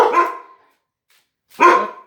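Two sharp barks from a dog nearby, each short and loud, separated by a second of silence.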